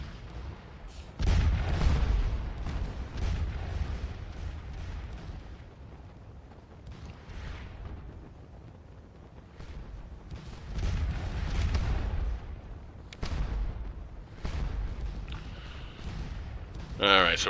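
Several booming discharges from an artillery battery in a wartime strategy video game, heavy blasts spaced irregularly with rumbling tails, mixed with game effects while someone talks throughout.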